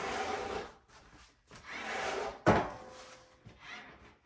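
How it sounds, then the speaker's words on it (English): Snow being shoveled: a few separate scraping strokes with short pauses between them, fairly faint, plus one sharper scrape-and-knock in the middle. "My husband's shoveling, you probably can hear it."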